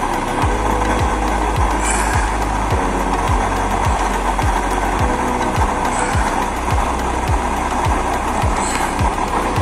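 A used oil stove burner roars with a steady broadband rush, overlaid by a regular rhythmic low thumping pulse about once per second, close and continuous without talk.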